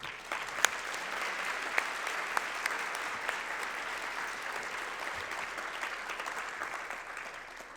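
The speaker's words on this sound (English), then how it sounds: "Round of applause." Audience at a scholarship luncheon applauds steadily, a dense wash of clapping from many hands in a room that holds even for several seconds, moderately distant.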